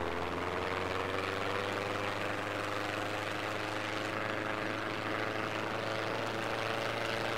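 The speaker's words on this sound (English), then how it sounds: "first time taking off an actual runway" A plane in the Trailmakers video game takes off from a runway, its engine droning as a steady, loud, unbroken roar with a low hum underneath.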